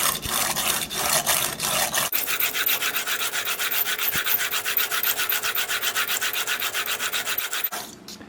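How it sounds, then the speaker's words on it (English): A knife blade is rubbed in steady rhythmic strokes across a 400 grit sharpening plate, a close, gritty rasping repeated continuously with a brief pause near the start. "I am now going to go to 400. I'll get a burr on both sides"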